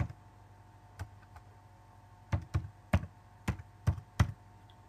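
Keys clacking on a computer keyboard as a file name is typed into GIS software, a loose run of sharp clicks with pauses, then a quick burst of several strokes near the end, fairly quiet with no talking.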